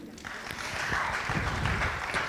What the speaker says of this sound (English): a big clap for him